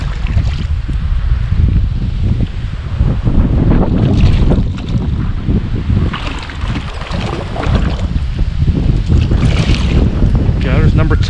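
Strong wind roars and buffets the microphone continuously beside flooded brush on a New Jersey bass-fishing water, a loud low rumble with gusts rising and falling throughout.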